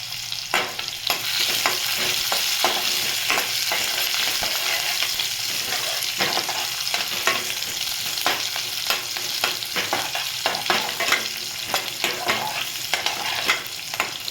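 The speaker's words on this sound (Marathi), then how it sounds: "मी जवळजवळ नऊ ते दहा पाकळ्या लसूणच्या घेतल्या आहेत आता ह्या चांगल्या अशा परतून घेणार आहेत" Garlic cloves and cumin seeds sautéing in hot oil in a pan for a methi (fenugreek leaf) dish, giving a steady, close sizzle broken by frequent scraping stir strokes throughout, with no talking.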